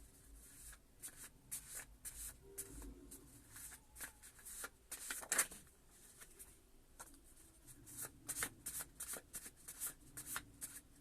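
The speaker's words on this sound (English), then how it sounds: "Let's pull some Hermetic cards for an answer." Soft papery shuffling of Hermetic cards during a reading, with a steady run of light flicks and riffles, quiet and close, alone without talk.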